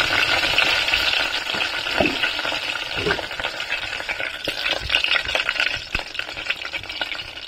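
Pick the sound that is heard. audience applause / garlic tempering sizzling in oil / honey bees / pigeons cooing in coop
garlic tempering sizzling in oil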